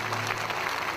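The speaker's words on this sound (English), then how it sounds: "Let us clap to Jesus." A church congregation claps together in a dense, steady wash of applause that fills the room, loud and continuous with no voices over it.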